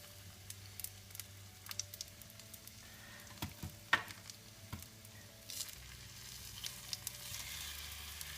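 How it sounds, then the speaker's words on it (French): Samosas sizzle and crackle in hot oil in a pan, a faint steady fry broken by scattered pops and a few sharp clinks of a utensil, with no talking. "faut surtout bien laisser chauffer l'huile dans la poêle pour entendre ce petit bruit et ça cuit"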